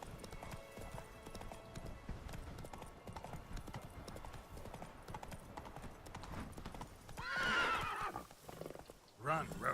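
Horse galloping in The Witcher 3, rapid steady hoofbeats throughout with a loud neigh near the end, under game ambience and some talk.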